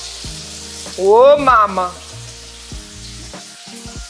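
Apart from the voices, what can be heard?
steak sizzling in hot pan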